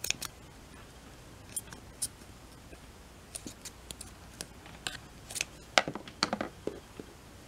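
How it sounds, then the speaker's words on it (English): Scissors snip through crochet yarn while a chain link bracelet is finished off, a few sharp, close clicks and snips over a quiet background, scattered unevenly through the moment. "Cut the yarn"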